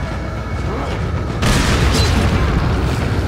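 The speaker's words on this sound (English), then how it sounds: "I should probably use a grenade. Let's use the incendiary" A burning incendiary grenade bursts in the Resident Evil 4 video game, a sudden loud broadband boom followed by a sustained crackling roar. A voice can be heard faintly beneath it.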